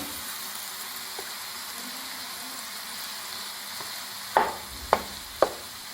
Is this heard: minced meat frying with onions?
yes